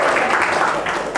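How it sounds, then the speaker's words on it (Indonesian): A classroom full of students claps in applause after a group presentation; a brief, dense burst of clapping fills the room, with voices mixed in. "Beri tepuk tangan dulu."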